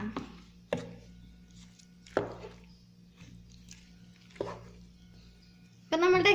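A spoon turning chicken biryani in a pot makes a few separate soft, wet squishing scoops, spaced a second or two apart over a low steady hum, followed by a brief burst of louder sound at the end.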